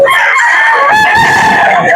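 A rooster crows loudly and close by, a long drawn-out call with a rising then falling tone.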